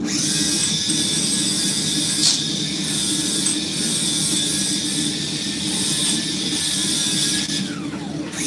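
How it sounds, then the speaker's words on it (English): A bench grinder runs steadily through the finishing of a forged Bowie knife blade that was oil-quenched, giving a continuous close, loud whine and hum with no breaks and no talk over it. "Grinder."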